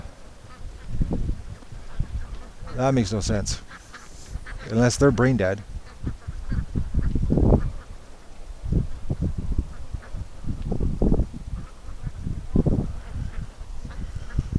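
Ducks near a lake let out a couple of bursts of rapid, nasal quacking, close and clear, alongside scattered lower calls and splashes while someone talks intermittently.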